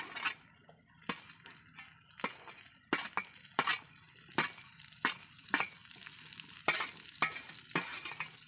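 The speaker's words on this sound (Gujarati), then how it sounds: "તો હવે આપણે નાખી દઈએ ભીંડો." Chopped okra is stirred into masala with tomatoes and onions in a pan. A quiet sizzle runs under a steady rhythm of sharp scrapes and clinks from the spoon against the pan, about one per second.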